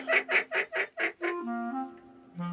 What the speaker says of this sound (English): We got ducks swarming us.